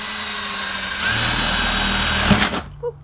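A power drill whirs steadily during the insulation of a van being converted into a tiny home, running continuously at close range before winding down and stopping abruptly near the end.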